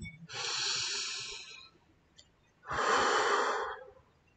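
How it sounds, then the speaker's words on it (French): A deep breath taken during an EFT tapping session: a long, breathy inhale, a short pause, then a fuller, airy exhale, close to the microphone and with no speech. "Prenez une profonde respiration"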